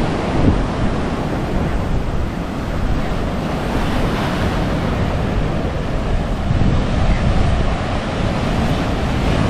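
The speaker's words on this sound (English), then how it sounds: "This is the beach, guys. This is the beach side." Ocean surf washes steadily onto a beach in Colombo, Sri Lanka, a continuous broadband roar of breaking waves with wind buffeting the microphone, loud and close with no voices.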